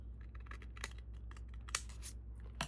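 Scissors snip pieces for a mitered corner, giving quiet, close, irregular cutting clicks and crisp snips over a low steady background hum.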